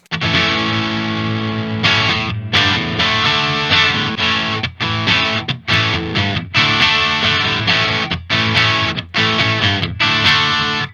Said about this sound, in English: Let's throw on a little boost here.